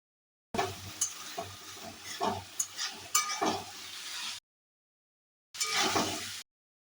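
Spice paste fried and stirred in a pan with boiled potatoes, a close sizzle broken by scraping spatula strokes and small clinks, running several seconds, stopping, then returning briefly.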